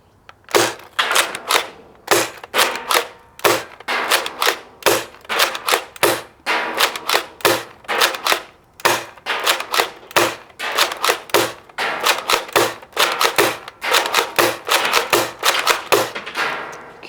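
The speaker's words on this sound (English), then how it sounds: "we're gonna take a couple of normal shots first and then we'll move on to slam fire" A Nerf GelFire Quadrant blaster firing gel shots at targets, sharp loud snapping shots repeated in quick irregular runs and pairs, close up with brief gaps between bursts.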